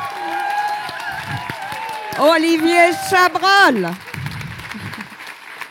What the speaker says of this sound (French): Et je vous demande de faire un tonnerre d'applaudissements à